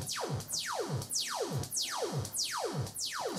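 Output of a Morphun synthesizer module fed by a looping envelope with fast attack and slow decay, slowed down: a repeating series of downward sweeping tones, roughly five falling zaps in steady rhythm, loud and close with no voices.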